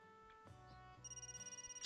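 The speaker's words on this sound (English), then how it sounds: "Oh, that's my phone." A phone ringtone chimes with a repeating electronic melody and pulsing tone, close and clear, with no talking.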